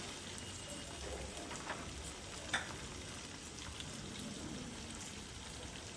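Ginger garlic paste fries in a pan with a soft, steady sizzle and faint crackles, quiet and continuous.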